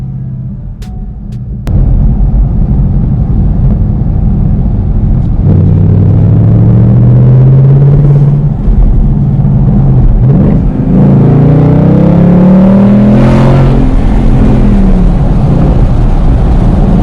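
A 6-speed manual Ford Mustang GT driving along roads toward Big Sur, its engine a loud, close rumble that climbs in pitch through the revs, eases, then rises again.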